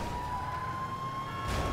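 A police car siren in a video game, a steady sustained wail that holds a constant tone throughout, with a low engine rumble beneath it and a slight surge near the end.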